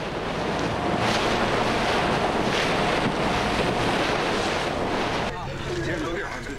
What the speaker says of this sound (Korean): 배는 요동치고 눈앞으로 파도가 덮쳐오는 험난한 뱃길.